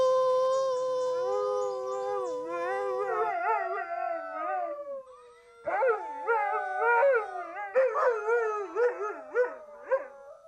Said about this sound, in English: He doesn't bark at them, but he does howl.